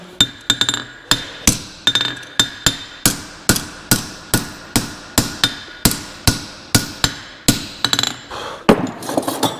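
A farrier hammers a horseshoe on an anvil, working it through the fullering groove in a steady, rapid series of about twenty sharp, ringing metallic blows, loud and close with no voices.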